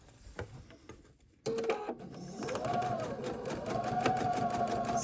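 After a quiet moment of faint handling noise, a sewing machine starts up and runs steadily along the edge of quilt pieces, its close, even whir of stitching continuing without a break to the end.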